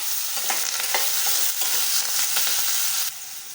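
Onion, tomatoes, green chilli, potato, peas and curry leaves fry and get stirred in a pan, a soft continuous sizzle with scraping strokes of a spoon at a moderate distance.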